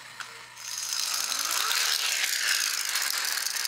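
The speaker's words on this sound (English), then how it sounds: "They have a flywheel and a sparking device" Vintage 1980s flywheel-powered toy robot with a sparking device running, giving a fast buzzing rattle and whirring spin-up that starts after a brief pause and stays steady and close.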